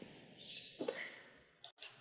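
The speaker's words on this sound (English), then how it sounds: "I'm just hitting H on my keyboard when I have one of these selected" Quiet computer keyboard keys clicking, with a few soft, separate taps against a faint background hum and no talking.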